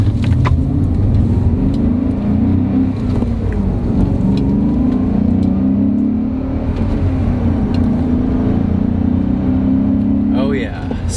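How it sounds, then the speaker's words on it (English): A BMW E39 M5 with its S62 V8 engine drives at a steady, loud, throaty drone from inside the cabin, a deep rumble holding evenly throughout, with a voice speaking over it. "The M5 has an S62 V8 engine."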